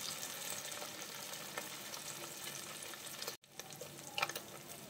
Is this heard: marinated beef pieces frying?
yes